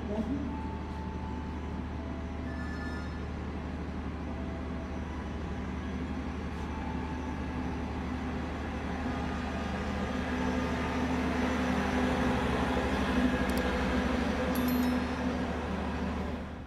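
The Pasundan passenger train from Kiara Condong to Surabaya Gubeng at Kroya station, heard as a steady low rumble and hum of the train with faint squeals and clanks, continuous and moderately distant.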